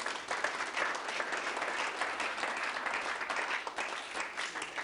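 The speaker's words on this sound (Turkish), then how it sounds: "Buradan onlara da şöyle kuvvetli bir alış gönderelim." Steady, sustained applause from an audience during an evening radio or stage program in Turkey, a dense wash of many hands clapping at moderate distance and fairly faint, without talk over it.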